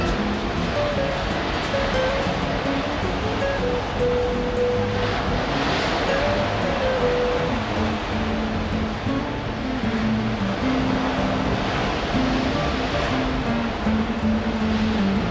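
Mediterranean sea waves wash in a steady, broad roar heard from a seaside balcony, with faint tonal sounds drifting in and out over the surf.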